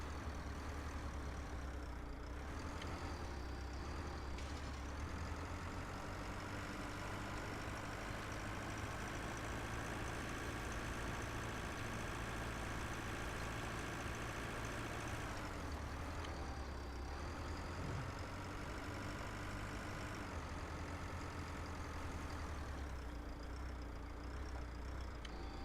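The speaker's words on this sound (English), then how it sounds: "At least with this new tractor, it goes much faster than what we were using on the old one." A tractor engine running in the farming video game Pure Farming, a steady low droning rumble that holds constant with slight pitch shifts as it drives, quiet and alone without talk.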